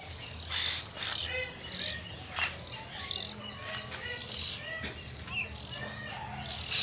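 Oriental magpie-robin chirping while it bathes, splashing and dipping in water; bright repeated chirps and tweets come in short bursts across the clip, fairly near and clear, with a faint background hum.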